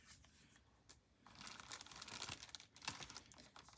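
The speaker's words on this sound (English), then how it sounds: "Okay, and then more paper crumpling." Close, crackly crumpling and crinkling of paper for card making, quiet at first and then building into a dense run of rustles and sharp crackles, with no voices.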